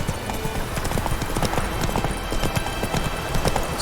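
Horse hooves clip-clopping steadily in the video game The Witcher 3: Wild Hunt, a dense trotting rhythm that is close and loud, heard alone.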